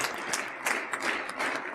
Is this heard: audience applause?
yes